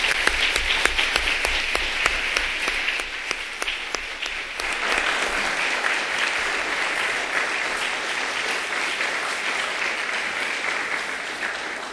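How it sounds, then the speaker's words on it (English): An audience at a statewide high school mock trial competition gives the teams a round of applause, starting with sharp individual claps that blend into a loud, sustained wash of clapping lasting about twelve seconds. "I ask the audience to join me in giving these teams a round of applause"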